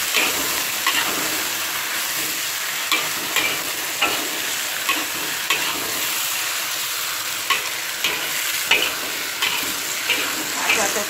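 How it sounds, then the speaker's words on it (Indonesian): Eggplant and egg being stirred into sambal as it fries in a pan, with a continuous sizzle and steady scraping strokes of the spoon, plus a few sharper clinks at the pan edge. "Kita aduk sebentar biar ini bumbunya sambalnya itu campur ya."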